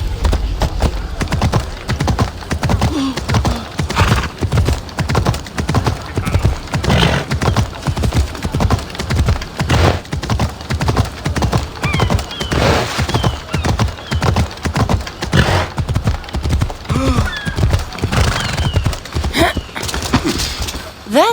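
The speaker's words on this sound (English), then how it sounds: "It's a very nice horse. A sturdy horse." Horse hooves clip-clop in a steady, loud rhythm throughout, with an occasional neigh rising over the hoofbeats and no talk.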